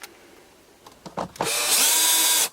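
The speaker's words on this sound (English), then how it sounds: "I'll whiz these couple of screws" A power drill whirs as it drives screws into a Bosch washing machine door during a handle repair, a few short bursts building into one sustained, loud run at close range with no talk.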